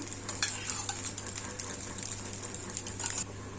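Mini rava uthappam frying in a pan after ghee is poured over the top, a steady close sizzle with light scraping and clinking of a utensil, no voices.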